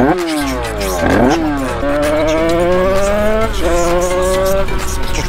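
A Yamaha DT two-stroke motorcycle engine, cold and from 1986, revs up and down close by, its buzzing, raspy tone rising and falling in pitch several times across the clip.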